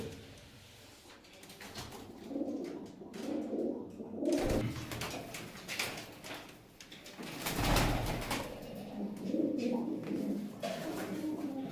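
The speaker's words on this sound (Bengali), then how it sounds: "বন্ধুরা পায়রা দেখুন কেমন" Pigeons, including a white homer, coo softly on and off amid a busy loft, with rustling, fluttering and a few knocks of wire or doors in between.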